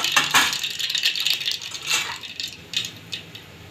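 Mustard seeds dropped into hot oil crackle and pop in quick irregular bursts, close and fairly loud, with no talking.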